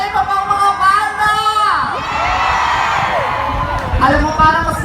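A crowd at a Leni Robredo political rally in Borongan, Eastern Samar, cheers and shouts loudly, with high whoops and overlapping voices rising and falling over several seconds.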